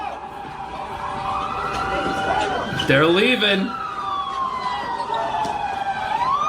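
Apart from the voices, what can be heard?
police car siren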